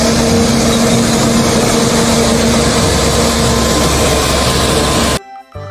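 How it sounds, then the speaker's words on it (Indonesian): A toy street sweeper truck makes a steady, loud mechanical drone with a constant hum for about five seconds, then stops abruptly. "Wow, ada mobil pembersih jalan."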